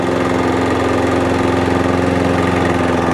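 Petrol lawn mower engine from a job lot of old mowers, running at a steady idle close by, a loud, even throbbing hum with a constant pulsing rhythm and no voices over it.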